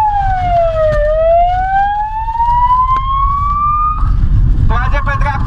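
A police car siren wails during a traffic pursuit of a drunk, unlicensed driver on a Romanian road. The loud, close, rising and falling tone sweeps over vehicle rumble and shifts to a faster warble near the end.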